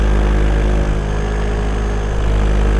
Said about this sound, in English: you're still going to get noise just from the prop